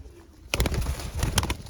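A pigeon at a bird market coos in soft, low, rhythmic bursts after a quiet start, close by and alone.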